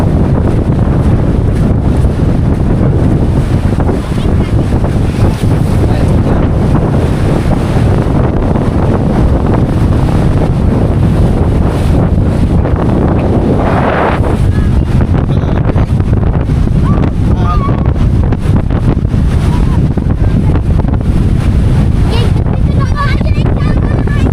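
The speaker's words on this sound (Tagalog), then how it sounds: "Malakas ang alon guys." Strong sea waves rush and churn continuously at the shore, loud and close, with heavy wind buffeting the microphone and voices heard over the surf.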